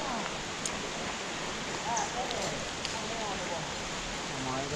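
Steady, dense hiss of rain falls over dense jungle, even and close throughout, with faint bird chirps poking through now and then.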